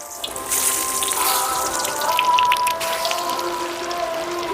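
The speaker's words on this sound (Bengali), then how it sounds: "পুদিনা, রিফাইন অয়েল, চাক চাক করে কেটে রাখাগুলো গরম তেলের মধ্যে ছেড়ে দেব" Chopped mint, chips and omelette ingredients go into hot refined oil, and a continuous close sizzle and bubbling rise at once and hold steady, with faint tonal clinks on top.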